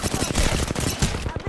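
Rapid automatic gunfire in the Apex Legends video game, dense bursts of shots hammering continuously at close range, loud and harsh, with a voice mixed in.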